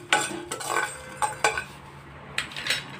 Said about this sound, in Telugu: అలాగే 3 లవంగాలు, 1 చెక్క ముక్క, 1 యాలక్కాయ వేసుకుంటున్నాను. ఇది కూడా ఫ్రై చేసుకుందాము.